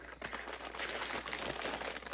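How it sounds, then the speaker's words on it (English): Crinkling and tearing of a plastic Temu shipping package being cut open, a close, continuous rustling crunch with no talking. "So I'm gonna get this cut open"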